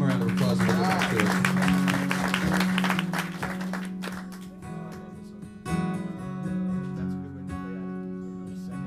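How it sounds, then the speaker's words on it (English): A comedy club audience applauds a stand-up comedian, the clapping loud at first and then thinning, while music plays along underneath. "Give him a round of applause."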